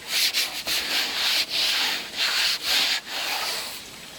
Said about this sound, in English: If I rub it, you'll see how rough it is.